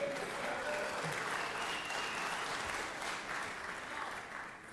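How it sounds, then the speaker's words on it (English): Senators in the Georgia Senate chamber applauding, a steady, even roar of many hands clapping for the whole stretch, heard at a modest level with no voice over it. "Let's give her a round of applause, everybody"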